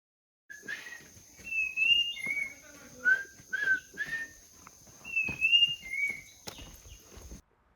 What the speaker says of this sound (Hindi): कितनी अच्छी सीटी मार रही थी चिड़िया